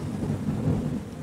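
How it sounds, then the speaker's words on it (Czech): Low, steady rumble of thunder from a small summer thunderstorm over old Brno, heard alone as a brief continuous roll. "od severozápadu přišla na staré Brno menší letní bouřka"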